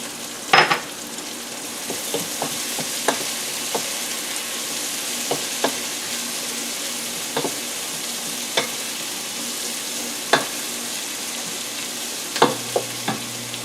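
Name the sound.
chopped garlic added to frying onions, sizzling in pan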